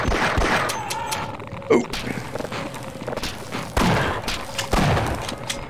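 Military gunfire in the video game Half-Life VR mod, scattered sharp shots and thuds in irregular bursts over a noisy background, with a brief voiced exclamation.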